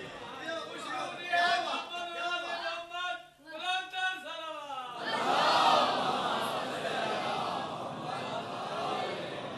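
Crowd at a Shia majlis aza mourning gathering in Shah Jivna, Jhang, shouting religious slogans together; after a few seconds of a single voice, a loud, sustained collective roar of chanting fills the rest, full and close.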